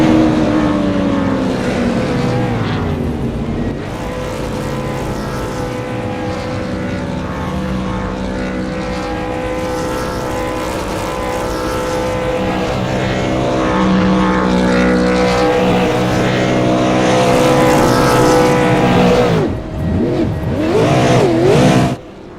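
Simulated race car engines from a sim racing video game roar continuously in a post-race burnout, loud and sustained with droning harmonics. The pitch bends and dips briefly near the end before the sound cuts off.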